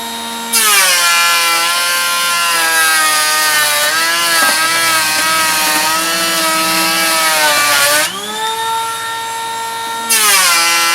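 A cordless 18V Makita brushed planer shaves wood at a 2mm depth, its loud, high-pitched whine running steadily for several seconds, dipping briefly near the end before rising again as the cut continues.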